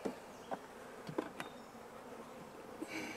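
Honey bees buzz close around hive comb, quiet and intermittent, with several sharp passes of individual bees darting near and a rising whine at the end.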